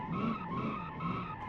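Kei car fitted with a big V8 skidding sideways in a drift in BeamNG.drive, tires squealing in a continuous wavering screech, close and loud, with no talk.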